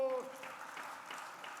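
A church congregation applauding during a Sunday worship service, soft steady clapping that follows a brief tone and stays fairly faint and even throughout.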